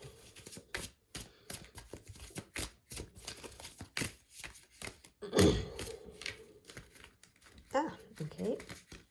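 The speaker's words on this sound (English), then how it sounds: "we're going to keep shuffling" Tarot cards shuffled by hand in a series of soft riffling, tapping bursts with brief pauses, one louder flurry midway, heard close up while a person talks softly over them.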